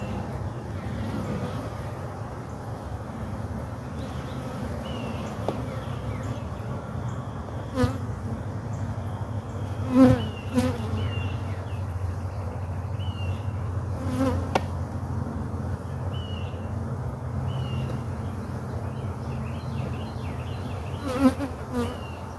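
A dense, steady hum of many honeybees buzzing close by around an open hive, continuous throughout with occasional louder passes and faint clicks.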